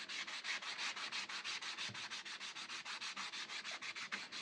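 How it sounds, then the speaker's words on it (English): Product is wiped off a craft surface in fast, steady back-and-forth rubbing strokes, close and continuous, with no talking. "I'm actually going to wipe this off now."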